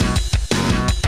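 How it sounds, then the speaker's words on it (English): Windows default MIDI drum sound, the kind heard in the Duke Nukem 3D video game. A short looped drum pattern plays loud and punchy, with about four quick hits in one second. "Oh, hello, Windows default MIDI drum sound."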